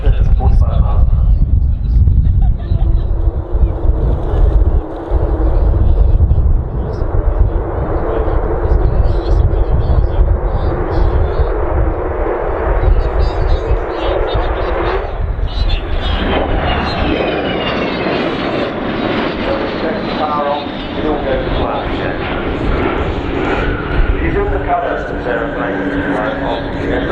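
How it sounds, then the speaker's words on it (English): Avro Vulcan jet bomber flying low along the runway display line at RIAT airshow, a loud continuous roar that swells partway through, heard under steady commentary from a man. "So as Kev brings the Vulcan in along the runway, along the display line, I'm looking to see him accelerate her to about 300 knots"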